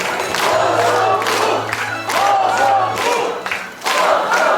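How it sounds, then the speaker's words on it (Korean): A crowd at a Changwon political report meeting for lawmaker Heo Seong-mu cheers and shouts in loud, repeated surging bursts, with clapping mixed into the roar and a low steady hum underneath. "박수 함성 부탁드립니다"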